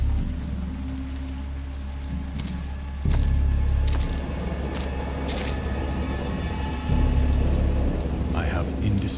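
A thunderstorm with heavy rain in a video game: steady, loud rainfall with two deep rumbling thunder surges, one near the three-second mark and one near the seventh second, plus a few sharp cracks.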